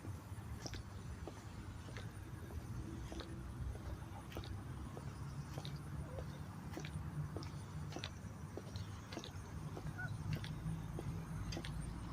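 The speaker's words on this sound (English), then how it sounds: "those are Canadian geese" Canada geese honking in a downtown Dayton, Ohio park during flooding, repeated short honks at irregular intervals over steady outdoor background noise, moderately distant.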